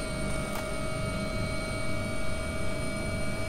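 AW-139 air ambulance helicopter in a flight simulator, a steady, even engine and rotor drone with a constant whine on top, no talk.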